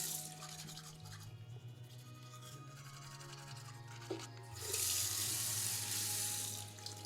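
Steady running water from a sink tap in the video game Look Outside, a continuous close-up gush that swells louder near the end, with a quiet musical drone underneath.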